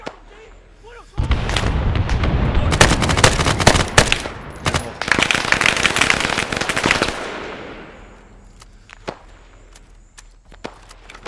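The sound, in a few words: heavy machine gun fire in ArmA 3 video game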